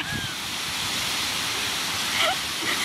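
The Sunchhahari waterfall in Rolpa district, Nepal, rushes as a steady, full hiss of falling water, heard close and continuous with a few faint high chirps over it.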